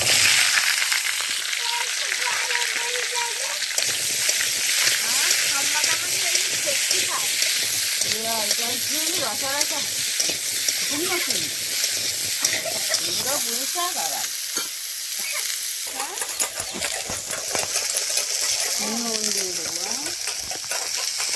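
Dal stir-fried in a hot pan with turmeric and salt sizzles loudly and steadily while a utensil scrapes and stirs through it, with people talking over the frying throughout.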